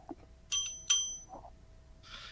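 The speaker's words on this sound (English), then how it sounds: "I like to ring my own bell." A bright bicycle-style bell rings out in two quick metallic dings, clear and close, followed by a softer shimmering chime.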